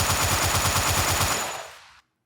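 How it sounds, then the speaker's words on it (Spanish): Rapid automatic gunfire from a first-person weapon in a Unity game prototype, a dense, loud, evenly spaced burst of shots lasting about two seconds before cutting off. "cuando vuelve a aparecer el arma es cuando ya puedo disparar"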